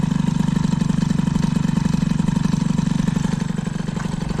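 A moped's small single-cylinder engine idles steadily up close after its idle was readjusted from a cold setting, with an even, rapid putter and no talk over it.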